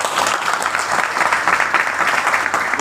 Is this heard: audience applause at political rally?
yes